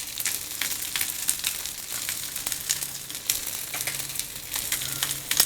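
Sweet corn patties frying in a little oil in a wide flat pan, a continuous close hiss of sizzling with scattered crackling pops and no voices.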